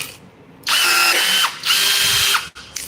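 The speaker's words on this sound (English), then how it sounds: "So now I will show you how to use the rivet gun to make a rivet." A rivet gun setting a rivet during a product demonstration, two loud sustained mechanical whirring bursts with a whining tone, each about a second long, separated by a brief dip and ending abruptly.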